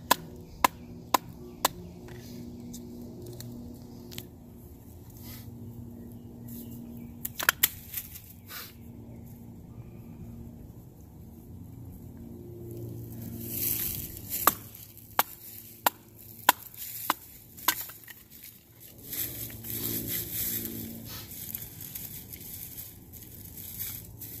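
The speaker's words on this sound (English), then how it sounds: "kind of do some crafting chops to get more of a rough shape and then some slicing to get that final spindle out" A knife chops and slices wood to shape a spindle for a primitive fire drill, giving sparse, sharp close knocks and small cutting scrapes against a quiet outdoor background.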